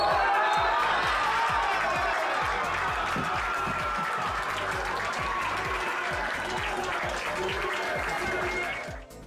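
A home crowd at a university men's hockey match between Exeter and Oxted claps and cheers steadily and loudly in a sustained wash of applause that fades out at the end.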